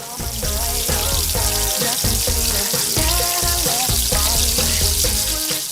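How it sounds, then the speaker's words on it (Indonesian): Garlic, scallion, chili, pineapple and tomato stir-frying in a pan for a spicy-sour shrimp sauce, a steady loud sizzle with irregular clatters of a spatula scraping and tossing the ingredients throughout. "Lalu untuk bumbu asamnya kita tumis dulu bawang putih"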